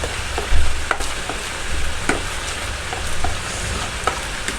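Chicken karahi being stirred in a hot pan, a steady sizzling hiss with repeated scraping strokes of the spoon, close and fairly loud throughout, no talking.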